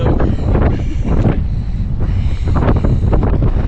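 Strong May wind gusts roar steadily across the open summit of Ratangad, a hill fort in the Sahyadri range, as a loud, continuous buffeting with surges against the microphone and no talk.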